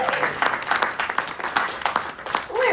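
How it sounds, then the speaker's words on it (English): Audience members at an annual meeting applaud a volunteer from a Marine Life Center, the clapping steady and close with uneven bursts, ending in a brief murmur of voices. "big round of applause."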